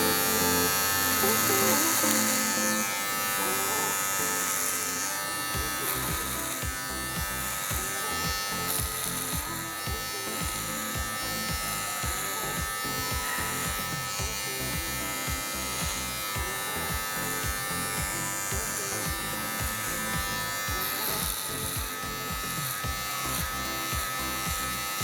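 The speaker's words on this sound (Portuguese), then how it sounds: "Vou começar com a máquina com o pente 2." Electric hair clippers fitted with a number 2 guard cut hair during a razor-style haircut, a close, constant buzz with rapid rhythmic strokes as a voice talks over it.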